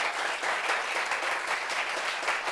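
An indoor audience claps at a French gathering, dense, steady applause for the whole moment with no voices over it.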